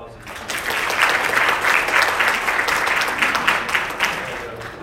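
A church audience at Varina Baptist Church breaks into a dense, steady round of applause that swells and holds for several seconds before tapering slightly.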